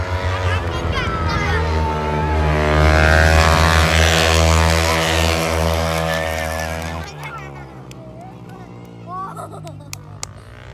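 A small private airplane's propeller engine runs loud and close with a steady droning hum, which fades and thins after about seven seconds as people talk over it.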